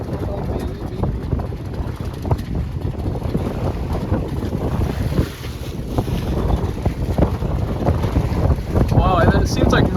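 A motorboat pushes through three-foot sea waves, its engine drone mixed with slapping water, spray and heavy wind buffeting the microphone, loud and continuous with people talking over it.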